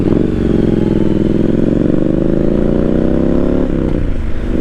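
A motorcycle on a quick ride, its engine droning loud and steady throughout with a rising pitch as it accelerates and a brief shift near the end, wind noise underneath and no talk.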